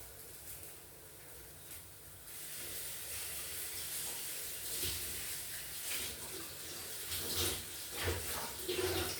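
Fresh moringa leaves being rinsed in water, a steady splashing, hissing wash that fills the whole stretch at close range, with no talking.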